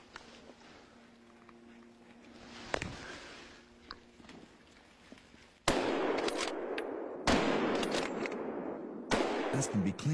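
Gunfire at wild boars during a hunt outdoors: one sharp shot rings out amid quiet background noise, followed by several loud, close rifle blasts in quick succession, each with a ringing decay.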